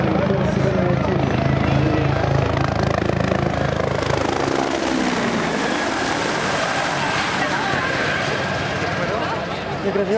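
A Bell 412 helicopter flies by loudly. Its dense rotor and engine roar shifts and drops in pitch midway as it passes overhead, with voices speaking underneath.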